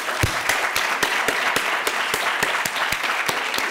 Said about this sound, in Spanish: Entonces yo digo que un aplauso para todos nosotros.